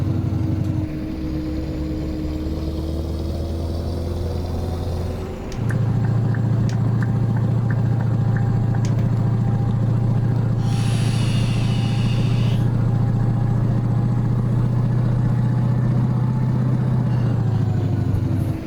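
Scania R-series 10-wheel truck in Euro Truck Simulator 2 idling with a deep steady engine hum, then a louder rumble after a few seconds and a brief hissing burst of air brakes midway, with no talk.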